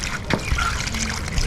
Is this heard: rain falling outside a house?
no